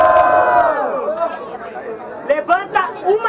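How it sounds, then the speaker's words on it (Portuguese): Audience at a student rap battle in Guarulhos, São Paulo roars loudly at first, then fades into mixed chatter with a few bursts of shouting, while a host talks over the noise. "Diferentemente, barulhos, barulhos pro Fuzuê"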